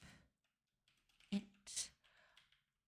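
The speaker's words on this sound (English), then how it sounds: "Ah, my typing is terrible." Keystrokes on a computer keyboard while coding during a game development stream, a few sparse clicks and short bursts fairly close, with quiet gaps between them.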